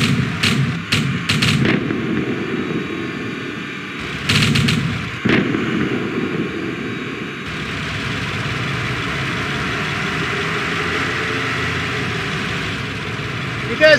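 Gunfire in the War of the Worlds strategy game as units shoot down defensive walls: sharp, repeated shot bursts early and again around four to five seconds, over a steady low engine-like rumble that continues throughout.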